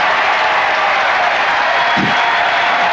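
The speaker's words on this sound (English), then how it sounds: "This crowd going wild, appreciating the great tennis." A large tennis crowd at the 1998 Chase Championships, the WTA season-ending tournament, keeps up a loud, steady roar of applause and cheering for the whole stretch, with no break or talk on top.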